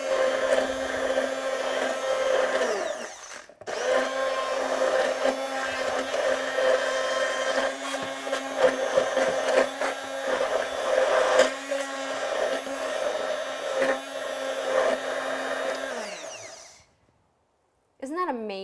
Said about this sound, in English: with my hand blender, what I'm going to do is blend it